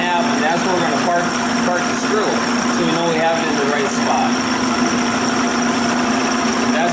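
A carbureted engine idles steadily while its idle mixture screw is turned, a continuous close mechanical hum with a faint rhythmic chug and slight shifts in pitch.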